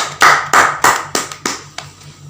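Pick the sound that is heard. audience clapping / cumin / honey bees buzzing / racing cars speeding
audience clapping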